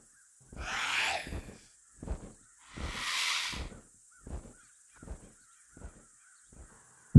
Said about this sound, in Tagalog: Pero may narinig akong huni sa may ulunan ko.